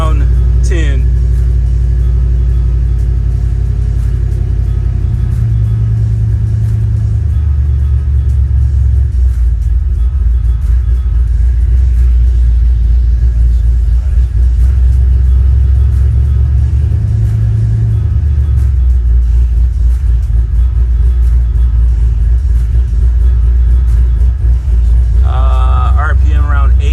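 Ford SN95 Mustang engine idling with a steady low rumble, rising in a few slow revs around the fifth and sixteenth seconds, heard close up with a brief sharper noise near the end.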